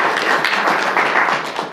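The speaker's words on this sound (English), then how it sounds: "Let's clap for the Hawaiians." A seminar audience claps together, a short burst of close, dense applause that holds steady before tapering off.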